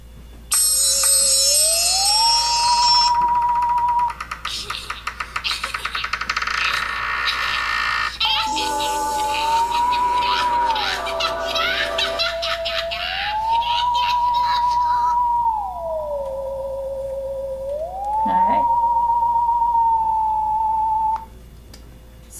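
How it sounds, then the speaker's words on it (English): Realization of Imaginary Landscape No. 5, with several layered recorded tracks weaving in and out: gliding sine-like tones, bright bell-like and buzzing textures overlapping, fairly loud and continuous for over twenty seconds. "you heard the tracks weaving in and out of each other, and that is an imaginary landscape number 5"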